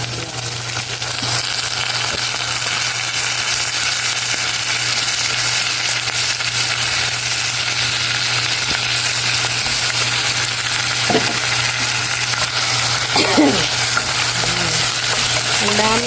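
Argentina brand corned beef fries in a pan with a steady, close sizzle throughout, plus a low constant hum and a couple of brief utensil scrapes near the end.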